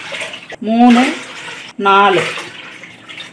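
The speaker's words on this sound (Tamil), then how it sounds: "நான் சொன்ன மாதிரி 4 கப்பு தண்ணி இதில் ஊற்றியாச்சு" Water is poured from a cup into a cooking pot four times, heating for rice flour batter, each pour a short gurgling splash separated by counting speech, close and clear.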